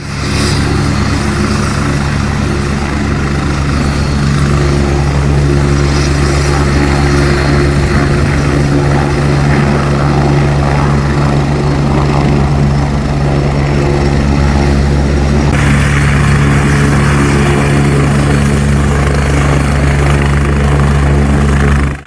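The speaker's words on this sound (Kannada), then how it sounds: "ಹೆಲಿಕಾಪ್ಟರ್ ಮತ್ತೆ ಲ್ಯಾಂಡ್ ಆಗಿದ್ದು ಎರಡನೇ ಬಾರಿಗೆ ಟೇಕ್ ಆಫ್ ಆಗಿ ರಾಮನಗರದತ್ತ ಪ್ರಯಾಣಿಸಿದೆ" The chief minister's helicopter lands and takes off on a dusty ground, its rotor and engine roaring loudly and steadily up close for the whole stretch.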